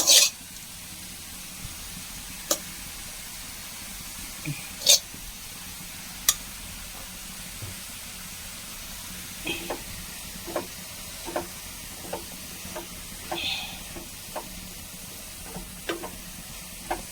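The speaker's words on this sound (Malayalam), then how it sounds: "നന്നായിട്ട് ഇളക്കി കൊടുക്കാം." Erissery curry with coconut is stirred in a pan over a steady low sizzle, with a spoon tapping and scraping the pan in sparse, evenly spaced clicks.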